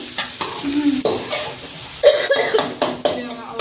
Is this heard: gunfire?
no